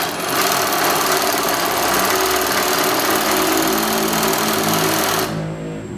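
An AtlasUSA AT1341 cylinder-bed walking foot industrial sewing machine stitches at a steady run, giving a loud, continuous mechanical chatter that stops abruptly near the end.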